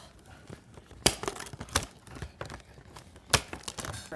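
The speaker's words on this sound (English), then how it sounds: "let's cut the wires" Scissors snip wire ties on a toy's packaging, giving a few quiet sharp clicks and crinkly rustles of plastic and cardboard with no talk.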